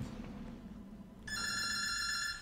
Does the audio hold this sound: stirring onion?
no